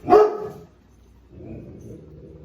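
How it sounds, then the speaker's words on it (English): A dog gives a single sharp, fairly close bark at the start, then only faint low room noise follows, heard in a home kitchen while chicken and broccoli Alfredo is being cooked. "There's a little barking at somebody."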